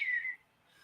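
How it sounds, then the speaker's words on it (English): A person whistles a short steady tone lasting about a third of a second, fairly close and alone, then quiet. "I'm going to be sitting here whistling."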